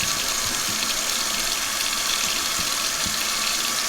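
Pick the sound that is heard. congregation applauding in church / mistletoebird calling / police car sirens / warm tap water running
warm tap water running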